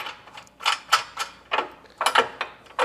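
Parts of a Benetech MaxZone conveyor belt cleaner snap into place during installation, giving a series of sharp plastic clicks and ratcheting snaps, close and distinct, several in quick succession with brief gaps.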